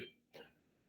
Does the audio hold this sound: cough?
yes